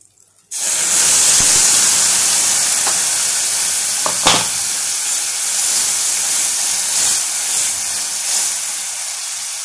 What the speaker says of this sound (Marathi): आता आपण याच्यात राहिलेलं पाणी टाकून घेऊया.